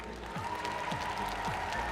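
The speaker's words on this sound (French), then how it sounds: "On peut l'applaudir." A seated audience at a midday gathering applauds in an even, continuous wash of clapping, with a faint murmur of crowd noise underneath.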